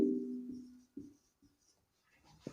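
Writing an example on a classroom board during a chemistry lesson: soft, faint scratches and taps come in short bursts with pauses, over a low background hum.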